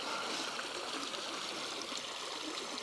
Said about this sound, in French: Très joli petit ruisseau.